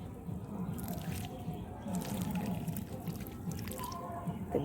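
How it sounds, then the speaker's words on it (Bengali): Water is poured generously over a newly potted seedling until it drains out the bottom. It makes close, continuous trickling and dripping sounds at a low level. "তো ভরপুর এইভাবে জল দিয়ে দিতে হবে, একদম জল যাতে নিচ থেকে বেরিয়ে যায়"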